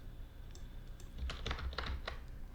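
Typing on a computer keyboard: a short burst of quick, close keystrokes in the middle, preceded by a few scattered taps over a quiet background hum.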